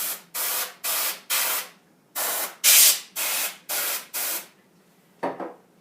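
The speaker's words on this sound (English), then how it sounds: "We're going to come in here and we're going to spray off our motherboard." Compressed air sprayed onto a computer motherboard to blow off dust, about nine short, loud hissing bursts in a fairly even rhythm, followed by a quieter final puff after a pause.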